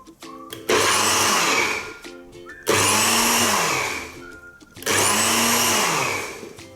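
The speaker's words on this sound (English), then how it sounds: "Wait like a couple of seconds between each pulse and grind it, but not too much." A blender pulse-grinds pesto Genovese ingredients in three loud whirring bursts of about two seconds each, with short pauses between them.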